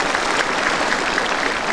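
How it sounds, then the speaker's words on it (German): An audience at a touring folk-music show claps steadily to welcome a guest onto the stage, a dense, even applause that stays loud and unbroken for the whole short stretch. "Ich sage herzlich willkommen unter Ihrem Applaus"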